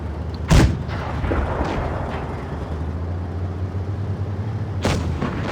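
Tank cannon fire in a competitive online tank battle match: a sharp, loud boom near the start, a rumbling engine hum through the middle, then a second heavy shot near the end.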